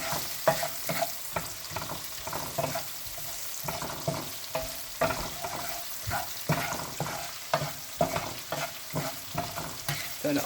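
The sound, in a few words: onion and seasoning frying in pan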